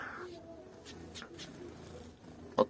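A pigeon or dove gives a soft, faint, low coo, heard close but quietly, with a brief knock near the end.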